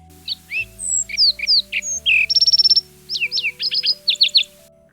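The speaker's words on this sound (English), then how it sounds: "another bird" A bird sings a rapid series of bright chirps and whistled trills, loud and close, over a steady low background tone, played as a sound quiz clip.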